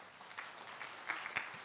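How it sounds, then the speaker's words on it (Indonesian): A church congregation at a morning prayer service breaks into short bursts of clapping, a loose scatter of claps with a few louder peaks, without voices. "Tepuk tangan buat Yesus."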